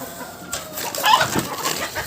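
A couple of backyard hens in a coop give short, soft clucks and murmurs, close by and sparse, with a brief rustle at the start.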